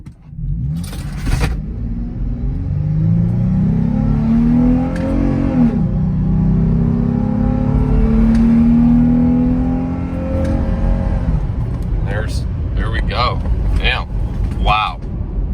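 A Toyota 4Runner built up as a race truck pulls away, its engine note rising and sweeping upward through the gears as it accelerates, with a person talking over the end.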